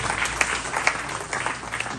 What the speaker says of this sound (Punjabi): ਸਾਰੀਆਂ ਧੀਆਂ ਵਾਸਤੇ ਜ਼ੋਰਦਾਰ ਤਾਲੀਆਂ ਨਾਲ ਸਵਾਗਤ ਕਰੋ